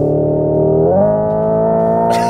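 Simulated engine sound from the cabin speakers of a Hyundai IONIQ 5 N electric hot hatch: a steady synthetic drone that steps up in pitch, ending in a brief crackle burst.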